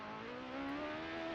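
Simulated race car from a Formula Student sim racing video game pulling out of the pits, a steady engine drone rising gently in pitch, heard alone and fairly quiet.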